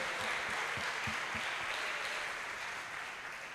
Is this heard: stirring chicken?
no